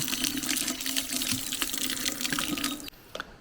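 Tap water pours into a small drum set out for washing feet at a temple, a steady close splashing gush that runs loud and unbroken before cutting off near the end, leaving faint drips, with no one speaking.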